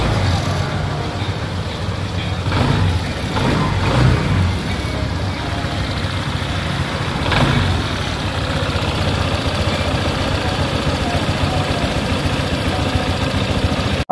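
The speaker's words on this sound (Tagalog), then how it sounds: "So kita nyo naman, nag-start na po yung ating unit." A motorcycle engine runs at a steady idle after starting, with a continuous low rumble throughout and a few slightly louder surges early on. The setting is a repair check after a no-start fault, though the battery is new and power is present.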